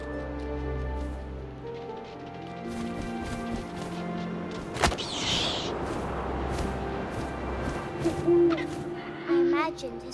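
An owl hoots in the video game What Remains of Edith Finch over ambient game sound and music, with a sharp crack midway and two short, clear hoots near the end.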